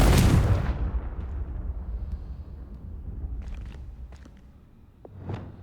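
A Confringo spell explodes in Hogwarts Legacy with a loud booming blast at the start that decays into a rumbling tail, followed by faint clicks and a smaller thud near the end.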